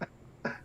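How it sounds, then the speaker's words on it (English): Two short, dry coughs a fraction of a second apart, close and fairly quiet, with no voices over them. "Coughing up your TB stuff?"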